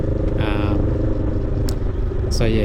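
A custom Honda Rebel 500 cruising through suburban streets, its engine a loud steady low rumble under someone talking, with a short clatter partway through.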